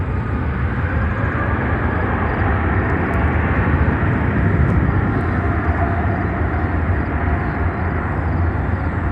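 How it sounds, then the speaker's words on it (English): A Boeing Dreamliner airliner comes in on approach at O'Hare airport. Its engines make a loud, steady broad roar that stays constant throughout, with no talk. "Next inbound. Looks like a Dreamliner."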